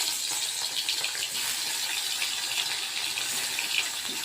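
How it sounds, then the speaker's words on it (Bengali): Fish fried in hot oil, a dense, steady sizzle and crackle, loud and close, with a few sharper spits and pops and no voices. "মাছগুলোকে আমি ভেজে নিচ্ছি এইভাবে"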